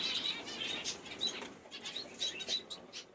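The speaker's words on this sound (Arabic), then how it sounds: "اوسخ طير شفته بحياتي الا هو الفنجس" Finches in an aviary fluttering and flapping their wings in repeated quick bursts close by, with faint chirps mixed in.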